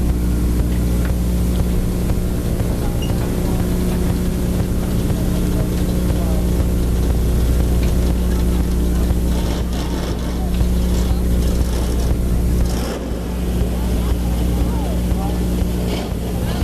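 Race car engines roar continuously at Claremont Speedway during a weekly racing night, a dense, loud engine wash with passing swells, and an announcer's voice is heard over it.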